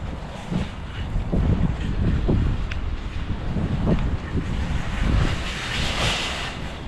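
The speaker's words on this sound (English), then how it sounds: "wow, that wind is strong" Strong wind blows outdoors, buffeting close and loud in continuous gusty rumbles with a constant hiss and no one speaking.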